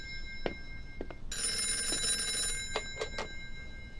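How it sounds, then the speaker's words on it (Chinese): An old-style telephone bell rings in a loud, sustained metallic burst, set between several short sharp knocks or clicks in a quiet room; no one speaks. "好了，先接个电话"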